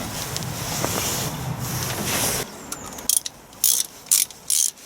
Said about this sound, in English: we're just tightening these down to nip it up a little bit first of all